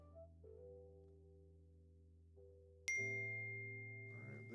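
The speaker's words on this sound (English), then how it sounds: "there's that text message you just sent Steve." A single bright phone text-message ding rings out and then slowly fades, with a softer sustained tone before it and a faint rustle at the end.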